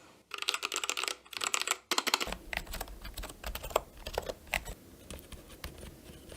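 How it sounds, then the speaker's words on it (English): Mechanical keyboard typing, a dense run of crisp clacking keystrokes in quick irregular bursts, close and isolated, briefly pausing early before a low hum enters beneath the continuing clatter. "just focus on the sound of a typing keyboard"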